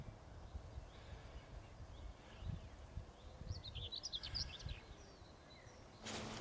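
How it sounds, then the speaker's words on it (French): Small birds sing outdoors on a nature walk, a few faint, high chirping phrases drifting in from a distance over soft, rustling background noise. "C'est chouette le chant des oiseaux quand même, non?"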